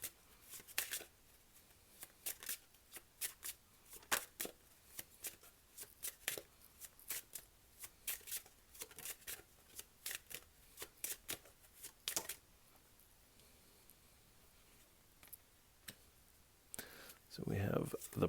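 Tarot cards being shuffled by hand, crisp repeated riffling and flicking bursts in irregular clusters, fairly close and quiet, with a short rustle at the end.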